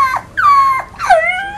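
A dog whines and yelps close by in three drawn-out cries that slide downward in pitch, loud and separated by short pauses.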